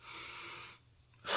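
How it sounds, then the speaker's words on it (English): Close, steady breath drawn in through the nose, a soft airy hiss lasting most of the moment before a brief pause and a sharper rush of air at the end. "is breathing in through my nose like this"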